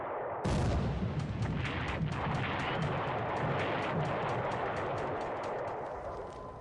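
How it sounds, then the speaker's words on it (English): Torpedo hits from Catalina flying boats exploding in a WWII Pacific strategy video game, a sudden loud boom followed by a dense, rolling roar of blasts and rumbling that stays heavy for several seconds before easing slightly. "Catalinas come through, and they are going to hit with some torpedoes"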